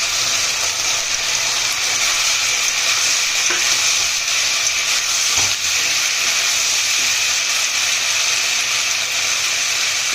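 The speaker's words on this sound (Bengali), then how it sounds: "আমরা চিলি সস দেওয়ার পর একটু নিয়ে নিয়েছি মাংস ভাজাগুলো দিয়ে দেবো" Fried chicken pieces added to chilli sauce with tomato ketchup in a pan for chilli chicken, a loud, constant close sizzle with steamy hiss and light stirring throughout, no talk.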